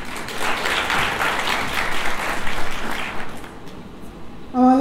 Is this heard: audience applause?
yes